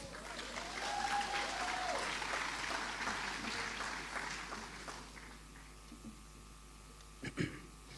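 A crowd applauds at an agricultural college summer graduation ceremony, with dense clapping for about five seconds that thins to scattered claps and a few faint knocks.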